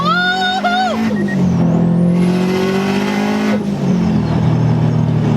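A Subaru WRX STI fitted with a GT3076 turbo accelerates hard, its engine note climbing and dropping between gear changes. The loud, continuous revving is heard from inside the car.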